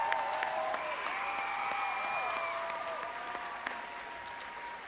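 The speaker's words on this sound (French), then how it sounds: "On applaudit nos artistes." An audience at a Christmas show applauding the performers, a fairly faint, steady wash of many hands clapping throughout, with a few whistle-like tones drifting over it.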